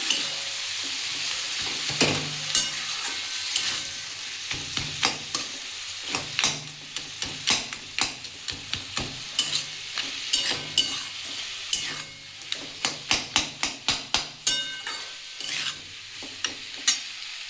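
Spinach and a fish head frying in a pan give a constant sizzle, with regular clinks and scrapes from stirring that come in quick, rhythmic bursts, close and clear with no talk.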